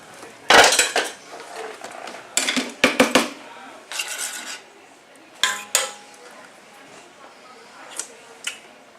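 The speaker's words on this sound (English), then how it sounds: "make sure you're giving it a good stir" Spoon clattering and scraping against a pot while dhal soup is stirred, coming in irregular bursts of clinks and knocks with quieter gaps, and a voice speaks between them.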